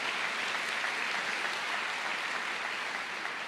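Steady, loud applause from a church congregation at a worship service, dense clapping sustained without a break and no voices over it.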